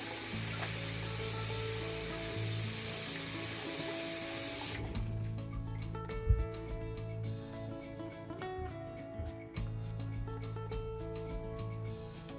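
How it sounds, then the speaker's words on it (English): A kitchen faucet runs loudly and steadily over vegetables being rinsed for about five seconds, then shuts off, leaving soft, close handling and light knocks in a quiet room. "I'm just going to take this one and rinse it"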